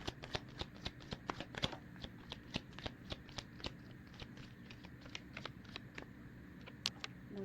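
Tarot cards are shuffled in a long run of quick, soft, papery taps and flicks. The sound is close but fairly quiet, with a faint background hiss.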